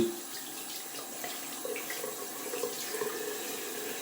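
Cold water runs from a tap into a sink during a wet shave, a steady close splashing hiss that continues without a break.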